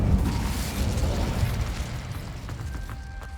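A fiery Incendio spell blast erupts in the Hogwarts Legacy video game, a loud, broad whooshing burst that fades over a few seconds with faint crackles at the tail.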